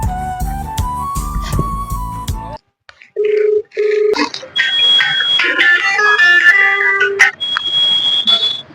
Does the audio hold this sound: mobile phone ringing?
yes